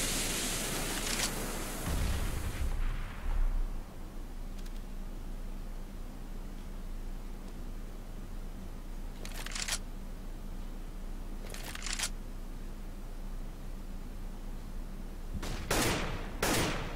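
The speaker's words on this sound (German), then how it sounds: "hat er gemerkt, dass da Schüsse kamen" Counter-Strike gunfire on de_dust2 during a professional esports match: a burst of shots at the start, then after a quiet stretch of low game ambience come several sharp, separate gunshots, each short and loud against the hum.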